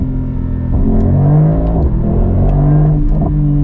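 A Mercedes-AMG GT63 coupe with an 816-horsepower V8 hybrid engine revs on a downshift while driving on the road, a deep close rumbling growl rising in bursts with blips between gears, no talk.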